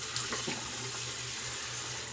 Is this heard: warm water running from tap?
yes